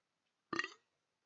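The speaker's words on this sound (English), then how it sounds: "burp into the mic" A single short burp, close to the microphone and fairly quiet, stands alone against silence during a podcast.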